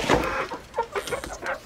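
Young silkie chickens cluck in a series of short, close clucks and chatters, with irregular bursts and brief pauses.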